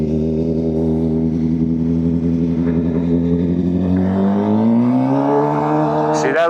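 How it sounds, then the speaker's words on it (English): A custom-built Suzuki GSX-R 750 motorcycle engine putters unevenly in first gear, a steady close-up idle-like drone whose pitch gradually rises toward the end as the throttle opens slightly. "See that little putter in first gear? That's the sign that we need to tune on this bike."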